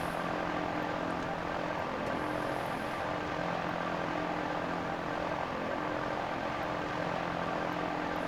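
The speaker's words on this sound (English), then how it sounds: "sounds like an airplane, one of those World War II airplanes" A propeller-driven fan craft from Zelda Tears of the Kingdom drones steadily, a constant buzzing whir like a World War II airplane engine, holding an even level throughout with no talk.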